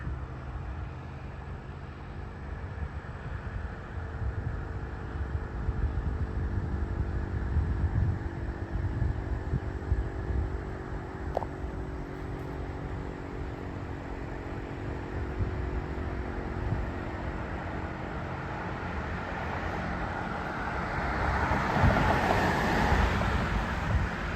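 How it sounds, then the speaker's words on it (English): Steady roar of traffic on a busy road, a continuous broad rumble of passing vehicles with wind buffeting the microphone, swelling louder near the end as a vehicle passes close. "There's a lot of road traffic right now. It's a very busy road."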